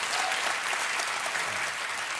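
A studio audience at a late-night comedy show taping with Stephen Colbert on a Friday, giving loud, dense, sustained applause that fills the room without letup.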